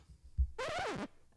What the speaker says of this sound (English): record scratch